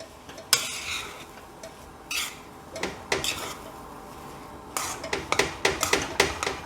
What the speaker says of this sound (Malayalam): ഇനി ഇത് നന്നായിട്ട് ഇളക്കി കൂട്ടി കൊടുക്കാം.